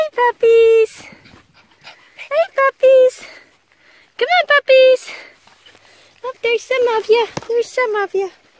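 Young Old Time Scotch Collie puppies whimper and whine in repeated short, high, close bursts, with a person speaking softly to them at times.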